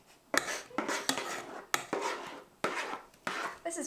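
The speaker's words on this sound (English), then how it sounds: "I'm adding 4 tablespoons of cocoa powder. And I'm gonna mix that together" A utensil scrapes and knocks against a bowl while cocoa powder batter is mixed, in repeated short strokes with sharp taps between them, close and fairly quiet.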